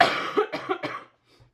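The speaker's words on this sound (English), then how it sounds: "I am still coughing up a lung." A woman with a cold coughs in a short burst of several harsh, close coughs in quick succession, then falls quiet apart from a faint breath.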